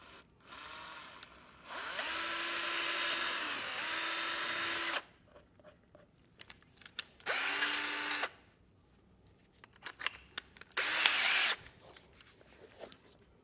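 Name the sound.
drilling holes in plastic with a drill bit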